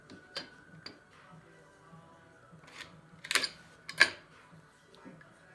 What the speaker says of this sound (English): take your barrel and slide it right back on